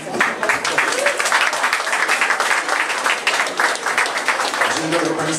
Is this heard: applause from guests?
yes